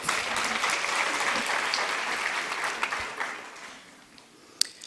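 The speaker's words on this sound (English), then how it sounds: "Let's give that a round of applause." An audience at a University of Namibia graduation ceremony in Windhoek applauds, steady dense clapping that carries on for several seconds and then thins out toward the end, with no talk.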